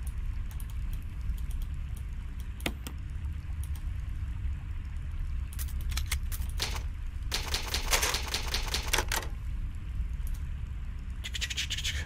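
Typewriter save sound in the Resident Evil video game, bursts of rapid mechanical key clacks in several clusters over a low steady ambient hum, no talk.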